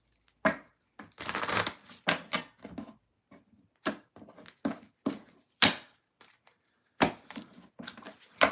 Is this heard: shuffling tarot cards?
yes